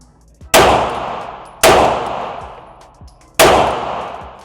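Three loud, sharp gunshots from an MP5 clone ring out at irregular intervals outdoors, each crack followed by a long, ringing decay, with faint clinks between shots.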